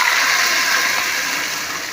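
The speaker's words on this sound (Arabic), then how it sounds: "احنا بقى نلحق نحط فيه كوبايه ميه قبل ما يحمر اكتر من كده" Water from a cup pours into a hot pot of browning rice, a loud, steady rushing hiss that holds for about two seconds and fades slightly at the end.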